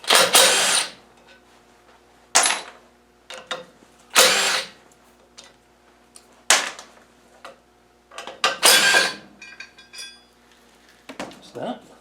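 Metal hold-down tool being spun off a TDI VE diesel injection pump, a series of separate clinks and ratcheting scrapes close up with quiet pauses between them.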